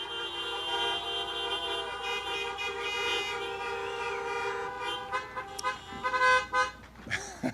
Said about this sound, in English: love the creative honking